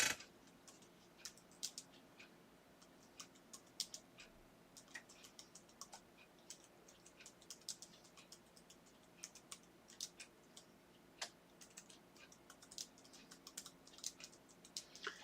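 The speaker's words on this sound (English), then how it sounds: "Now I'm going to type something else here." Typing on a computer keyboard, a faint, irregular patter of key taps with occasional sharper strokes, continuing steadily at a low level with no voices.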